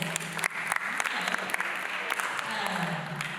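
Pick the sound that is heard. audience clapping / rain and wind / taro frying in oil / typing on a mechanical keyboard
audience clapping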